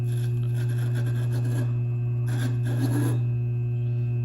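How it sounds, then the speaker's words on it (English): An Ultratech gem faceting wheel grinds a spinel gemstone, a soft raspy scraping in short bursts over the machine's constant low motor hum, close and fairly quiet with no speech. "you'll just lower this wheel here and you'll hear it start grinding"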